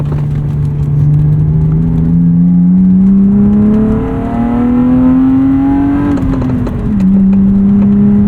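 A 1995 BMW E36 325i with an inline-six and five-speed manual pulls loudly from inside the car, its engine note climbing steadily, dipping briefly at a shift, then settling into a smooth drone.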